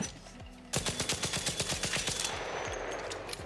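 Rapid burst of gunfire from a modded Kettle, Stitcher or similar weapon in the video game ARC Raiders, a steady rattle of around a dozen loud shots that then tails off into a lingering echo.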